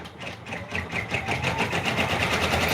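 An embroidery machine stitches a raccoon stuffed toy in the hoop, running a steady, fast mechanical chatter with a rhythmic pulsing buzz that holds evenly throughout, close and moderately loud.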